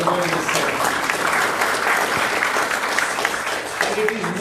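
Applause from a conference audience fills the whole stretch, a steady dense wash of many hands clapping at close range with no one talking over it.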